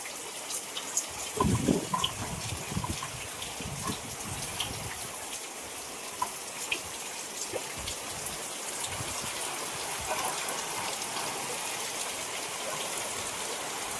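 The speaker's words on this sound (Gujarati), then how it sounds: "બહુ વરસાદ છે" Steady rain hisses down, with water splashing and trickling throughout. It stays fairly constant, and a few sharper knocks and splashes stand out early on.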